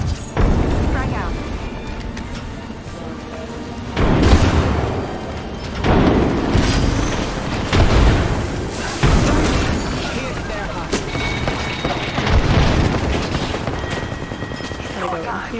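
A frag grenade blast in a shooter video game, heavy booms landing among continuous rapid gunfire and rumbling battle noise, with a voice talking now and then.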